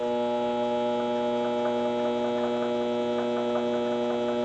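A mini lathe runs steadily while cutting core support bolts, giving a continuous motor hum with a faint, even ticking over it, close and alone with no talking.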